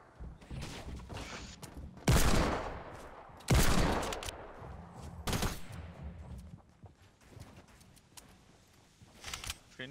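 Desert Eagle pistol shots in the Fortnite video game, several loud sharp bursts spaced a second or two apart, each followed by a fading tail, with quieter clatter between them.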